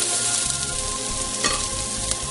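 Chopped tomato hits hot oil in a pan for a Malabar-style prawn biryani, giving a steady, close sizzle and crackle with occasional stirring scrapes and no talking.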